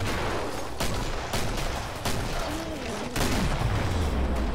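Explosions in the co-op shooter Killing Floor, several sharp bursts spaced about a second apart, loud and close, with a voice talking over them.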